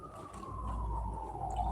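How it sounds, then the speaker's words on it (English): A siren wails steadily in the distance, a thin drawn-out tone over a low rumbling background with no talk. "You hear them sirens?"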